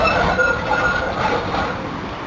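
A train at Richmond station in Melbourne gives a steady, fairly loud rumble with a faint high whine running over it, holding an even level for the whole stretch.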